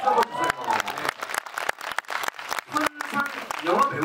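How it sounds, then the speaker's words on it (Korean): An audience applauds during a live stage talk at a CGV cinema for a Korean film, with scattered clapping and some cheering mixed under people talking. "아, 저기 박수 한번 주세요."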